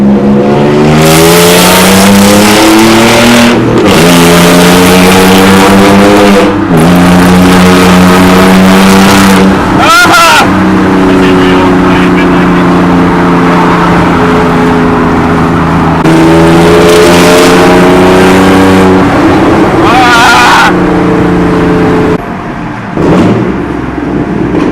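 A supercharged 2015 Toyota Tacoma X-Runner pulls hard on a freeway, its engine loudly climbing in pitch through several gears with brief dips at each shift, captured from inside the cab.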